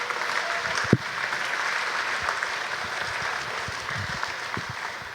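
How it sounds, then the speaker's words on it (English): An audience at a college summer orientation session breaks into steady applause, many hands clapping evenly at moderate loudness, with a sharp knock near the start and a few low bumps scattered through. "I think that deserves a round of applause."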